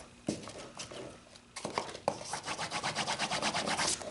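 Paper is burnished down onto a lidded box with close, quiet rubbing strokes, starting as a few scattered swipes and settling into a quick, rhythmic back-and-forth scrubbing.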